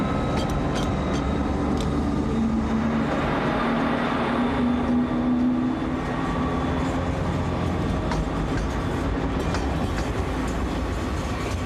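An SNCF CC 6500 electric locomotive hauls an evening Lyon–Geneva international train past at close range, a loud continuous roar of rolling wheels with rhythmic clickety-clack over rail joints throughout.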